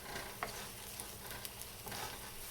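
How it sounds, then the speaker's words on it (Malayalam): Samosa filling sautéing in a pan, a steady close sizzle with soft stirring scrapes and faint spattering pops throughout. "നമുക്കിതൊന്ന് വഴറ്റിയെടുക്കാം."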